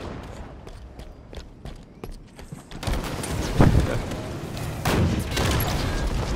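Rocket fire in a Halo-style shooter game, with sharp rapid bursts followed by a loud, rushing barrage of explosive blasts that stays dense and forceful to the end.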